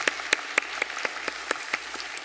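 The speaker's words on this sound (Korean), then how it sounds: "박수로 환영하겠습니다." A church congregation at a Sunday service claps to welcome a new family. Distinct, evenly spaced claps come in a steady rhythm, moderately near, with no talk over them.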